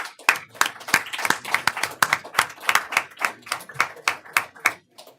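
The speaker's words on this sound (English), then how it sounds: "So I want to applaud you guys." A small group at a school district board of education meeting claps in distinct, fairly sparse rhythmic hand claps, close and clear, with no talk over them.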